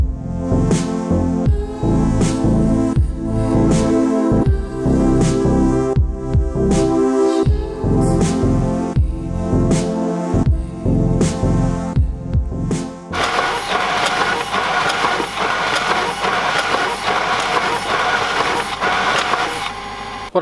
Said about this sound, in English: is printing thank you letters for one of my products.